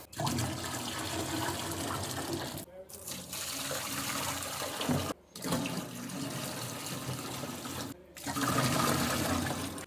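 Water pours steadily from a jug into popsicle moulds in a village kitchen, a continuous splashing stream broken by three short pauses between pours.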